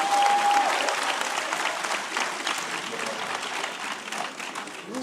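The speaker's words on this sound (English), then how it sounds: "That deserves a round of applause" Audience applause at a Black History celebration panel with civil rights legends, a full burst of many hands clapping that slowly thins, with a brief tone at the start.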